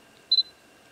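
A Sony QX1L lens-style camera's body shutter button is pressed, giving a quick double click with a short bright tone in an otherwise quiet room.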